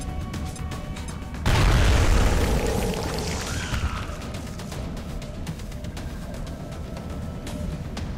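A single loud grenade explosion in XCOM Enemy Within hits with a sharp burst and a rumbling, crackling tail over a steady background hum.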